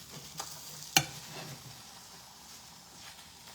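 Food sizzles in hot oil in a pan and is flipped over, a soft continuous frying hiss broken by one sharp clack of the utensil.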